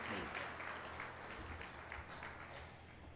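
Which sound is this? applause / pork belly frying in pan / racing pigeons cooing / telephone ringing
applause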